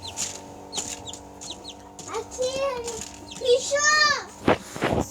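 Hens cluck and a brood of about ten chicks cheeps in high, quick bursts around a backyard chicken-raising setup, the calls overlapping near the microphone.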